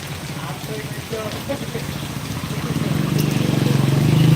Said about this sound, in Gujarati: વરસાદ બહુ છે